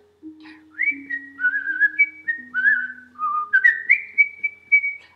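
Someone whistles a lilting melody alone, clear and close, with bright sustained and sliding notes over a faint low hum.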